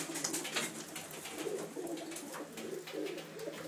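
A loft of young racing pigeons in Puna, Hilo, Hawaii, several birds cooing in soft repeated pulses over a gentle background rustle, fairly near and with no speech.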